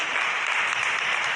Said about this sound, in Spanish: Dale un aplauso a Cristo